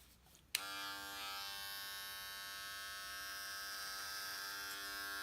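Electric hair clippers start with a sudden click and settle into a steady, close, high-pitched buzzing hum, trimming a full beard with no voices.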